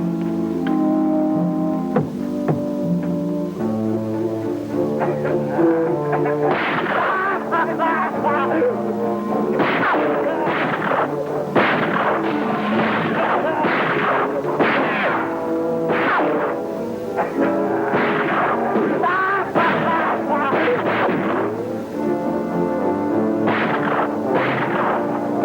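Repeated gunshots ring out in a 1952 jungle adventure film serial, sharp cracks arriving in irregular bursts with echo over a dramatic background score.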